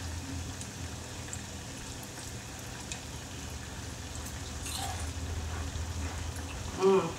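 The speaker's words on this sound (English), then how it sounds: "So I'm just going to keep on frying, rolling them in sugar." Steady hissing and crackling of Danish pastries frying in oil, a dense continuous sizzle with a brief louder clatter near the end.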